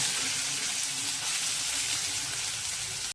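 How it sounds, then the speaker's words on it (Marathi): Finely chopped onion dropped into hot oil with crackled mustard seeds and cumin hisses in a loud, steady, dense sizzle that fills the moment without talk, then cuts off abruptly. "जिरं मोहरी झाली की पहिला कांदा टाकणार आहोत, बारीक चिरलेला कांदा"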